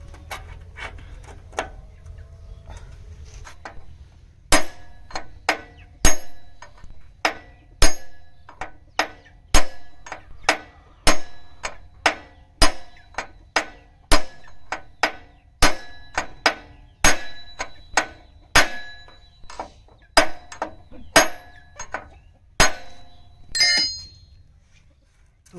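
Metal hammering as a bearing is driven through a socket into a Maschio rotavator, a run of sharp ringing strikes that begin sparse and then fall into a quick, steady rhythm, close and loud over a low background hum.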